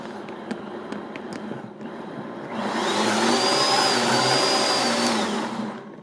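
A Vitamix XL blender whirring up a tomato sauce: faint clicks and a low idle hum, then the motor ramps to a loud, steady high-speed roar with shifting whine before tapering slightly at the end.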